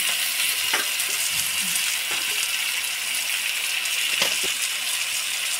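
Boiled, broken-up potato frying together with fish in a pan, a steady loud sizzle with a few sharp clinks and stirring knocks scattered through it.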